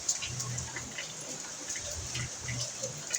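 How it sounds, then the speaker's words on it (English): Light rain is ending and patters faintly with a soft, steady hiss and scattered drops, quiet and even throughout with no talking. "I guess the rain is ending."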